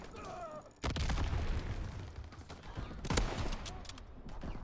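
Gunfire in the online World War II shooter Call of Duty WW2: a dense burst of shots breaks out about a second in, then continues as a sustained, loud barrage with a sharper crack near the three-second mark.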